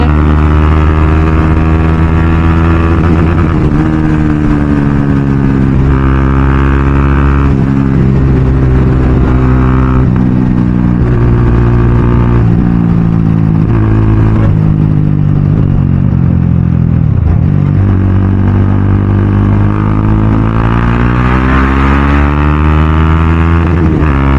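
A KTM Duke 390 BS3 motorcycle engine and exhaust roar loudly and close while riding, with the pitch rising and falling through revs and gear changes, including a downshift to fourth.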